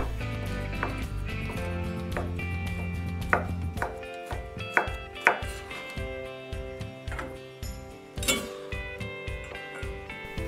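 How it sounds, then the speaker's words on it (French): A knife chops char siu pork into small cubes on a cutting board, steady repeated thuds close by, while background music plays throughout. "Je coupe le porc laqué chassiou en petits cubes."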